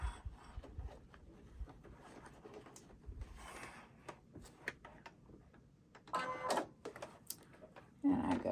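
Sewing machine stitching rope on a regular stitch, heard as quiet, irregular mechanical ticking and clicking that swells into louder runs near the end.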